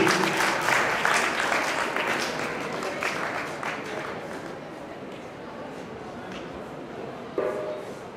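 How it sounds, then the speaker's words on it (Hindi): Audience applause at a Prajapati youth association talent award ceremony in Bidasar, a steady crowd clapping that tapers slightly with a brief burst near the end, with some background voices. "तालियां बजती रहनी चाहिए।"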